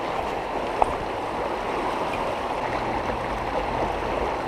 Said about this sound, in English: haven't seen this part of the river this fast.